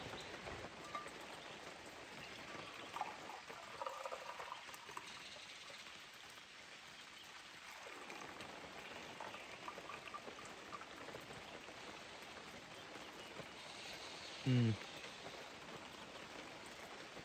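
Steady rain falls outdoors near a river, a soft, even hiss of drops spread across the whole stretch, faint and continuous. A brief louder knock comes near the end, and nobody speaks.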